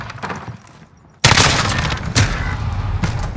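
Shotgun fire in Call of Duty: Modern Warfare (2019) Search and Destroy multiplayer, a sudden loud blast followed by a second shot about a second later, with dense gunfire noise trailing between them.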